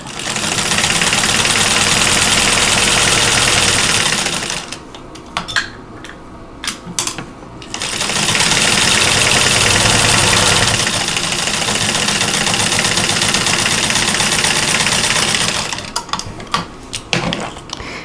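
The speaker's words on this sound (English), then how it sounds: "I want to sew fast, but this machine makes my table bounce if I go too fast." Home sewing machine stitching a quilt block for a sampler quilt, running in two long loud continuous bursts with a short pause between and a stop near the end, its fast motor hum steady and close.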